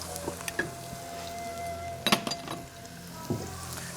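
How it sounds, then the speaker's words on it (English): Salted onions frying in a pan for aloo gobi, a soft steady sizzle with a few scraping clinks of a utensil stirring against the pan, close and fairly quiet, with no voices. "Just give it a nice gentle stir."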